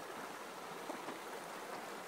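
Water of Taylor Creek near Lake Tahoe flows steadily in late autumn, a continuous broadband rush that holds an even level throughout, close and unbroken, with no voices over it.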